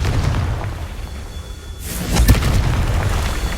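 Confringo blasting curse exploding in Hogwarts Legacy, a sudden deep boom with a sharp burst about two seconds in, followed by a rumbling tail over steady background ambience.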